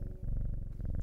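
Cat in the Strange Horticulture video game purring steadily and close, a soft rhythmic rumble pulsing evenly throughout with no voices.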